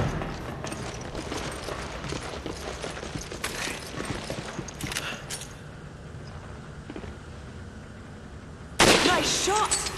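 Gunfire in the PS3 game Resident Evil 5, a dense run of sharp shots and impacts over game noise, with a louder burst near the end and brief voices mixed in.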